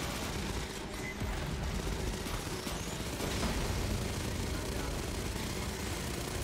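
An assault rifle firing in a video game, a dense, continuous barrage of gunfire that roars loudly and without pause from start to finish.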